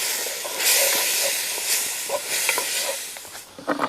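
Wine bubbles and hisses as it cooks off in a hot pan for beef ragu, a loud, close, steady steamy sizzle with small pops and clicks scattered through it, no talk.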